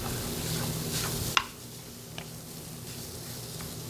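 Sausage being stirred in a pan in a school cooking class, a soft steady sizzle with scraping stir strokes, then a sharp clack of the utensil against the pan and a few quieter taps as the frying settles.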